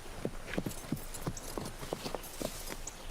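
Horse hooves clip-clop at a steady walking pace, a dozen or so distinct hoof strikes close by, standing alone without talk.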